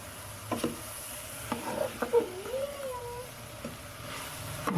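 Boiled turnips and peas fry with spices in a pan, giving a soft, low sizzle with light stirring taps and scrapes.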